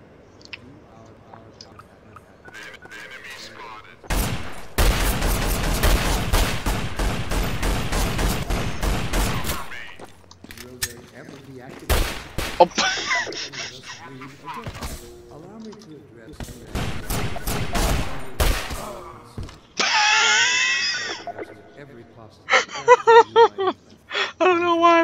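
Suppressed rifle fire in Garry's Mod comes in rapid bursts and single shots, sharp broadband cracks separated by pauses, with a voice talking briefly between them.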